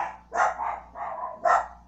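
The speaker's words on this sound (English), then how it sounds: "And my dogs are barking again." Dogs bark indoors in a short burst of four loud, close woofs, spaced unevenly over two seconds with no talking.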